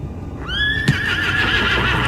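Horse in a video game whinnies once with a clear rising, wavering call, preceded by a short thud and followed by a sustained tonal tail over steady ambient game background.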